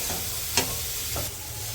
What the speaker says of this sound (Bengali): মশলাগুলো একটু কষে নিই।